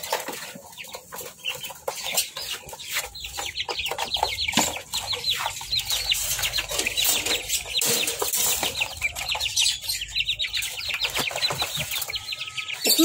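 Chickens and small chicks clucking and chirping busily as they eat, a near, continuous chatter with occasional wing flaps and no talking.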